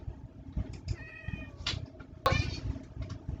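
A video game cat meows several times in quick succession, with short tonal cries and one sharper, louder yowl midway, set over a low background of game sounds.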